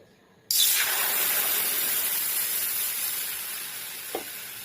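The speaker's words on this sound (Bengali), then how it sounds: "এখন দিয়ে দেবো জল।" Water poured into a hot wok after frying egg, bursting into a sudden loud hiss of steam and spray that stays strong and gradually eases off, with a single faint clink near the end.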